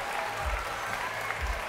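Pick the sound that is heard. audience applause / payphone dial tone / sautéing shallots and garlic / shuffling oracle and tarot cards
audience applause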